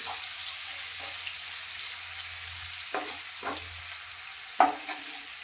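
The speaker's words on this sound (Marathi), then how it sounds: "हा बारीक चिरून घेतलेला कांदा आहे तो पण मी याच्यात आपल्याला चांगला मस्त फ्राय करून घ्यायचा आहे" Finely chopped onion frying in a pan for dum aloo, a steady hiss of sizzling with a few scraping stirs of a spatula near the end, close and moderately quiet.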